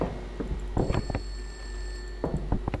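A telephone rings in a horror video game set in an abandoned school, short clusters of bright metallic bell bursts with a pause between, heard over a low steady drone.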